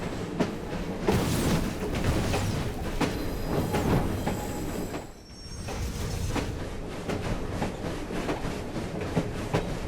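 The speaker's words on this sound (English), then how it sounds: "The train won't stop!" A runaway train in Assassin's Creed Syndicate rumbles and clatters along the rails with its brakes gone, a dense, continuous roar of rolling wheels and clanking cars, with a brief dip in the middle before the racket resumes.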